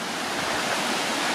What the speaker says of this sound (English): Oh, I hear water. I hear water.